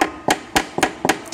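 Five sharp hammer taps strike an alloy automatic transmission part on a GM Holden BMW 5L40E to break a thread loose, each blow a loud, close metallic knock at an even, steady rhythm with no talk.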